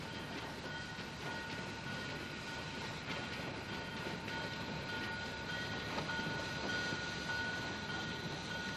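A train on the White Pass and Yukon Railway rolls steadily along, with a continuous rumble and rhythmic clatter of wheels on rail plus faint metallic squeals, heard alone without narration.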